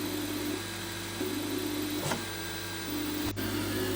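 A home-built 3D printer under test runs its motors in a low, steady mechanical whir with faint stepper tones that shift in pitch, and a brief click near the end.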